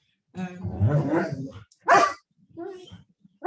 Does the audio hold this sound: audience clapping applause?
no